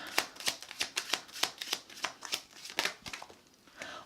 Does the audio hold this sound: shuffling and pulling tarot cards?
yes